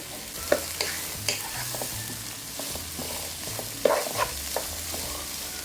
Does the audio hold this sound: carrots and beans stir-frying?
yes